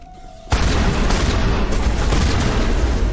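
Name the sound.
shotgun fire in Mass Effect Legendary Edition video game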